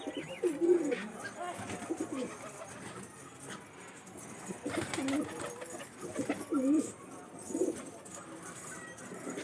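Pet pigeons coo in soft, low, repeated bursts at close range, with a few separate calls spread across the stretch over a faint background hiss.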